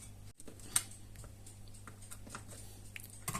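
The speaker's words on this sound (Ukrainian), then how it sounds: "Ось на такі брусочки я ріжу сир." A knife slices mozzarella cheese into sticks on a board, producing soft, faint taps and small clicks at an uneven pace, close by and quiet, with a low steady background hum and no speech.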